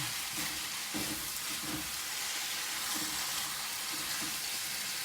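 Steady, moderately quiet sizzle of velveted chicken and mushrooms frying in a hot pan, with a few soft stirring scrapes scattered through.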